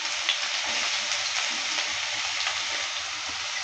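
Chopped onion sizzling in hot oil with black cumin, a steady bright hiss of frying that stays even and close throughout, with faint stirring and no voices.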